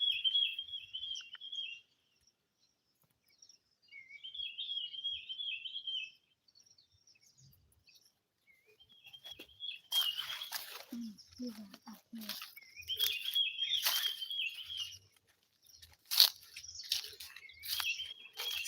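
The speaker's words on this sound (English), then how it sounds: "Can you hear the sounds of the birds? Very beautiful sounds." Birds chirp and sing in short repeated phrases in a village forest in the evening, fairly faint and distant at first, with rustling footsteps and brushing sounds joining later.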